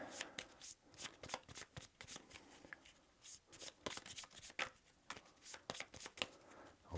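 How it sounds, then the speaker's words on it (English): A scavenge deck of cards for the Shadows of Brimstone board game is shuffled by hand, a close, quiet run of rapid riffles and taps in irregular bursts, with no talk. "we'll get the scavenge deck out and shuffle that up"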